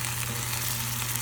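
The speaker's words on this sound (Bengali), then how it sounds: "একটু ভাজা ভাজা হচ্ছে, এবার টমেটোটা দিয়ে দেবো" Tomato frying in a pan of hot oil for a steamed poppy-seed egg dish: a steady, dense sizzle with no breaks, close and fairly loud.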